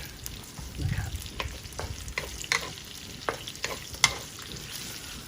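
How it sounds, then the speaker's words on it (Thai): Shallots are stir-fried in a hot pan for instant-noodle rad na, a close sizzle broken by repeated scraping strokes of a spatula and a few sharp clacks, with no talking. "เริ่มผัดหอมก่อน"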